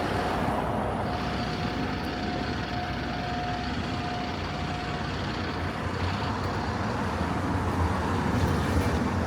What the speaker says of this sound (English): There's your bus. That's the Connors Key bus.